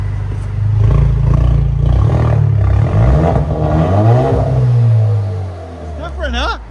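A 2019 Alfa Romeo Giulia with a 2.0L turbo engine and straight-pipe exhaust revs up and down several times, the loud rasping note rising and falling close by before settling back toward idle.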